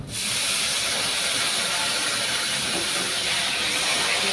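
Tomato dropped into a pan of ginger, garlic, onion and green chilli frying in oil, setting off a loud, steady sizzling hiss that carries on without a break from start to finish.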